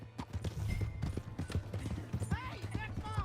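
Horse hooves clip-clop in quick, uneven beats as the animal is ridden off, mixed under shouted voices and game action in a Western setting.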